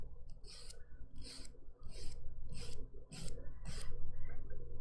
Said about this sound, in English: So I'm gonna go in with my curve file. And then I'm just going to start by going around that cuticle area